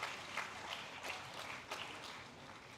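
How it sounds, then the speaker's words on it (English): Quiet, distant audience applause at a conference inaugural ceremony, a steady wash of many hands clapping for research scholars without clear individual claps. "Can you give a big applause to the intellectuals here?"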